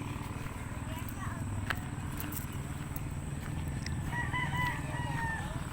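Chickens clucking and a rooster crowing in an outdoor setting, with steady background noise and people talking nearby.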